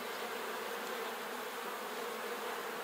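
Honey bees buzz around hive frames being shifted in a hive, a dense, steady drone of many insects close by with no pauses.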